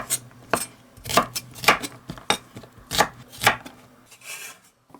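Onion and garlic pounded in a mortar, a steady series of about ten sharp thuds at an irregular kitchen rhythm, close and clear with nothing else over them.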